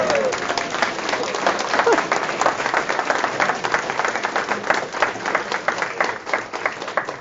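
A crowd applauds at the grand opening of a public safety complex in Lenox, dense steady clapping filling the whole stretch at moderate loudness, with faint voices mixed underneath.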